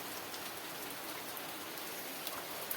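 Steady rain falls in a fine, even hiss with occasional faint drips standing out, heard alone at low volume.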